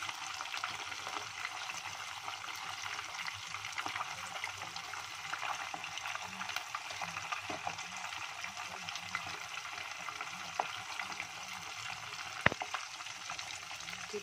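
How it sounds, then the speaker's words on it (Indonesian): Chicken frying in hot oil, a continuous dense sizzle that holds steady and close for the whole stretch, with an occasional faint tap near the end. "Ayamnya masih digoreng"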